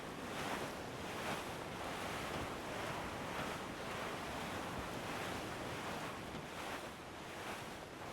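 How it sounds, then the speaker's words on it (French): Steady wind and ocean surf around a sailing ship in Assassin's Creed IV: Black Flag, a continuous broadband wash with rolling swells of waves, loud and unbroken throughout. "Le vent a forci."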